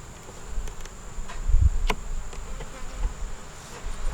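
Honeybees buzz steadily at close range, a soft continuous drone with a few faint clicks and bumps.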